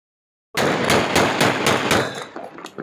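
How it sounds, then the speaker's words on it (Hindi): Loud celebratory gunfire fired into the air at New Year in Lahore's Gulberg and Model Town areas, a rapid automatic burst of evenly spaced shots that starts abruptly and fades into trailing pops. "मंचलों ने नए साल की खुशी में फायरिंग की इंतहा कर दी"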